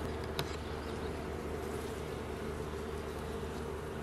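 Honeybees buzzing around an open beehive, a dense continuous hum of many wings close by with no talking.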